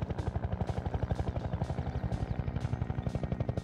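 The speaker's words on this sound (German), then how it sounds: "Heli." A combat helicopter in the video game Half-Life 2 Episode 2 thumps overhead with a fast, steady rotor chop and a deep engine drone, loud and continuous throughout.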